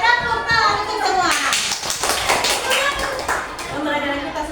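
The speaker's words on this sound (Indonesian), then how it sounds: "Oke, tepuk tangan untuk semua." A class of schoolchildren in a coding lesson claps their hands together, bursts of clapping mixed with children's voices talking over it.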